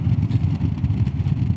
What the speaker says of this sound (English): I still think the sound of the engine and the exhaust is very pleasant